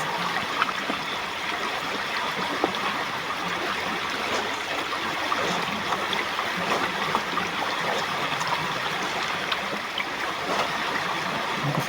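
River water flows steadily along a riverbank where laundry is being washed by hand, a continuous close rushing and trickling wash with no voices.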